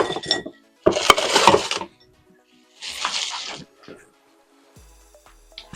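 A lid is set onto a cooking pot of pilau, with bright metallic clinks and scraping rattles in a few short bursts separated by near silence, close by.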